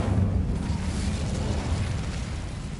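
A burst of fire from the Incendio spell in Hogwarts Legacy gives a dense, rumbling whoosh that roars for a few seconds without talk.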